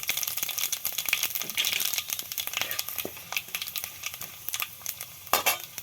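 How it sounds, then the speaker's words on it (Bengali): Cumin and five-spice seeds hitting hot oil in a pan that already holds chilli and bay leaf, crackling and sizzling with sharp pops and stirring scrapes, fairly close and moderately quiet. "এবার দিয়ে দিচ্ছি হাফ চামচ সাদা জিরে আর হাফ চামচ 5 ফোড়ন।"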